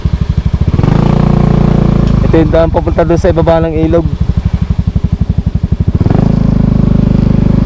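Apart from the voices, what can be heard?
motorcycle riding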